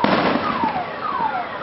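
July 4th fireworks: steady crackling bursts and pops over a constant rumble, with high whistling tones sweeping downward as shells fly, continuous and fairly loud throughout.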